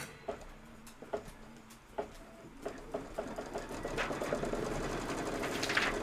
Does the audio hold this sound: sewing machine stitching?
yes